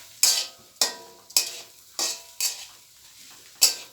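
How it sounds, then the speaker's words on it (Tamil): Ingredients being sautéed in a pan for a traditional chicken curry, with six sharp scraping stirs of a spatula against the pan over a light sizzle, evenly spaced and close by, no talking. "இப்போ பவுனம்மா வதக்குவாங்க"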